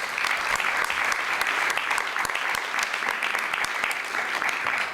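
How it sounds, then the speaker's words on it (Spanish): An audience at a theatre discussion event applauds a participant named Fernando, steady, close, dense clapping that continues without a break. "Un aplauso para Fernando."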